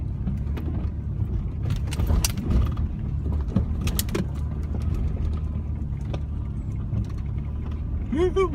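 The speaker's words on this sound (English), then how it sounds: "we're going to climb up that hill in the truck" A truck grinds slowly over rocks in a creek bed while climbing a hill on a Texas deer hunt, with a low steady engine rumble, rattling and clunks from the cab, and voices talking inside.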